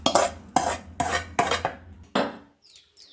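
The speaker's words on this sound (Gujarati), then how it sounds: "વાસણમાં આપણે રવો શેકેલો કાઢી લઈશું।" Roasted semolina (rava) for Gujarati sheero is scraped from a pan into a vessel, giving five or six sharp metallic scrapes and clatters in an irregular rhythm, close and fairly loud, ending in a couple of faint taps.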